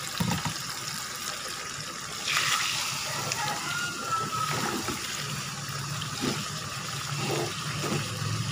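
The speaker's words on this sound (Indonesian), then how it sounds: "Sekarang kita tuang santannya." Coconut milk pours into a pan of beef rendang with a continuous sloshing, trickling wash of liquid, close and moderately loud, while some talk is heard alongside.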